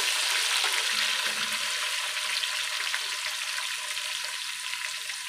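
Onions sizzle and fry in hot oil in a pan for village-style aloo gobhi, a steady dense crackling hiss that stays loud and continuous throughout.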